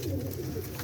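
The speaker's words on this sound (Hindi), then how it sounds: "तो ये जी माशाल्लाह परफॉर्मर कबूतर रहा है 4 साल" A performer pigeon kept in a home loft gives a single soft, low coo, brief and close, with no talking.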